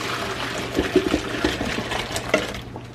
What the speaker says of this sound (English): we're going to strain them or drain them